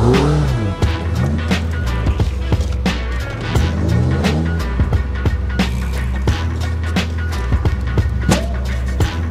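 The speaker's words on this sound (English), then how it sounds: "let's see if it can run and drive, because the engine is working" An abandoned Lamborghini sports car with its engine running as it drives off, engine notes rising and falling with repeated sharp knocks and clatters over a steady low rumble, close and loud.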